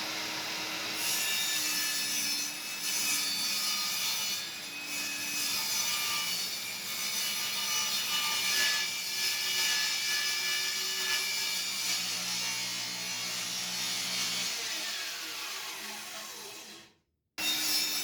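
A table saw cuts wooden boards in a garage, a continuous whining, rasping blade noise through each long pass, close and steady, with a short break near the end before it resumes.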